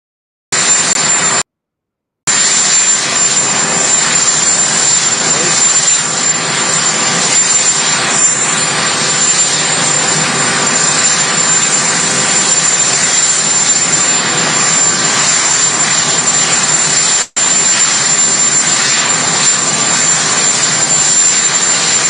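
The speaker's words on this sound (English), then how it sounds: "This was Trump just a short time ago, or just a little earlier today, not long ago, departing" Jet engines roar continuously as an aircraft carrying Donald Trump departs, a loud, steady broadband whine and rumble with a brief gap near the start and a short dropout later, no talk.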